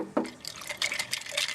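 Small splash of water poured into an emptied glass beaker for rinsing during gold recovery from computer parts, a few brief trickling spurts and drips close up.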